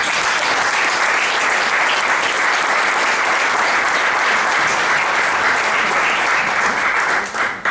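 Loud, sustained applause from a gathered audience, paying tribute in memory of people who have died; an even, dense clapping texture that holds nearly to the end without talk.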